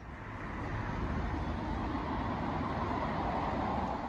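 Rumbling ride inside a train, a broad steady roar of wheels and carriage noise that builds in over the first half second and then holds evenly, with no talk.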